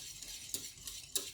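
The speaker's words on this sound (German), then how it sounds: "Und aber immer schön rühren" A spoon stirs semolina pudding in a pot with faint, quiet scraping and two or three soft knocks against the side, low and close.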